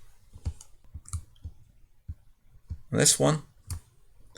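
Sharp computer mouse clicks arrive in a quick irregular series, faint and close, with a person talking quietly between them.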